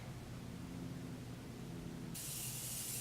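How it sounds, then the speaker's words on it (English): Rose face mist spritzed close by, a soft sustained hiss of fine spray that brightens toward the end, with no talking. "I'm going to spritz again with that rose spray just to give me some dewiness."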